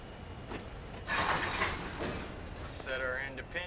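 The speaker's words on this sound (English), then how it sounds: "So we're going to go ahead and couple up real quick." Train cars coupling in Train Sim World 5, a metallic clank and rumble of rail cars joining, with a faint squeal near the end and a voice talking over it.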